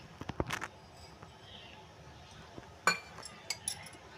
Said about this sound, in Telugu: ఇప్పుడు వాటర్ వేసి కలుపుకుందాము.